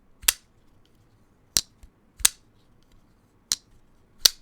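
Sharp metallic clicks of a tactical folding knife blade being opened and closed, five crisp snaps spaced irregularly, close and otherwise quiet.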